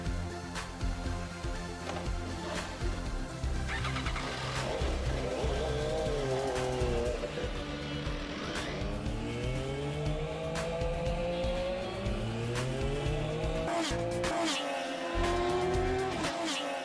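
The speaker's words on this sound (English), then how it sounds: "The race is on to test the bike on the track." An MV Agusta F3 motorcycle ridden hard on a racetrack, engine note rising and falling through gear changes with sweeping pitch shifts and occasional tire squeal, loud and continuous throughout.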